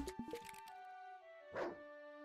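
A dog in the farming video game Our Love Will Grow gives a few short yips and barks, then one more bark after a pause, with soft background game music.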